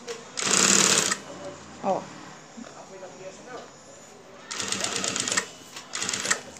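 An electric sewing machine stitches a zipper onto a fabric piece in two loud bursts of running stitches, an early long one and a later broken pair, with someone talking quietly between them.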